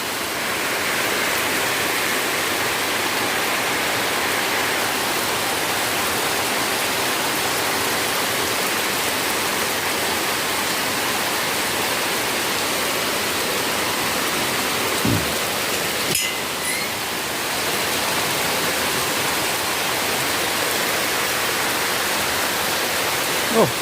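Heavy rain pours steadily for the whole stretch, a dense, even hiss of water with no break, and one brief sharper knock sounds partway through.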